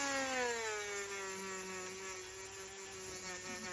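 A rotary sander smooths a Norton Nemesis V8 cylinder head with a continuous close-up whine whose pitch drifts slightly downward as it works.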